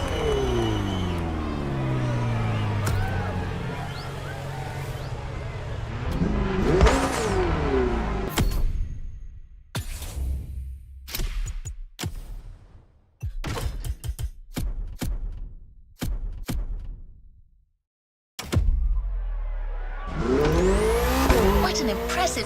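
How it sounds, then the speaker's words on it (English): Sports car engine in The Crew Motorfest video game, revving and roaring up through gears with tire squeal, then cutting into sharp bursts and a brief silence before the engine roars back, with a voice talking at times. "What an impressive sports car you're driving."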